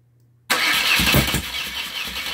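A 1992 BMW R100R cafe racer motorcycle engine catching on choke after a near-silent lead-in, firing up abruptly and loudly with uneven early pulses settling into a rough idle.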